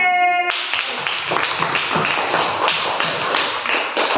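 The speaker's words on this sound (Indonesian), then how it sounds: "Tepuk tangan kelompok C." A group of primary school pupils claps hands together in a quick, steady rhythmic pattern, the close, dense claps following a brief tone at the start and continuing evenly to the end.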